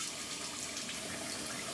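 Tap water running for a cold rinse after a home shave, a steady, even hiss of flowing water, fairly close and unbroken, with no talk.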